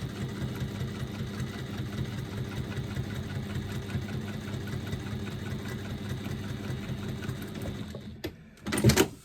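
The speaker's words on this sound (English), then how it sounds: "So I can now drop my presser foot down, stitch my seam" Domestic sewing machine running steadily as it stitches a bag seam through foam stabiliser, a close, continuous motor whir with rapid needle chatter for about eight seconds, then stopping with a few handling knocks.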